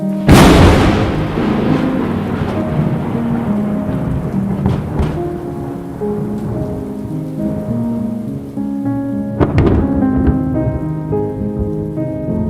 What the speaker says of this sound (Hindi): बारिश शुरू हो जाती है